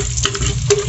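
Garlic hits a hot pan and is stirred, giving a close, short burst of sizzling with a couple of quick scraping strokes and no talking.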